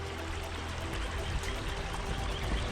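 River water flowing over rocks, a steady broadband rushing and trickling that fills the scene evenly from start to finish at moderate level, with no voices.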